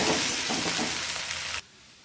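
Potatoes and okra fry together in a pan with a loud, steady, bright sizzle that runs for about a second and a half, then cuts off sharply to near quiet.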